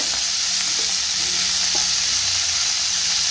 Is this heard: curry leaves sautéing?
yes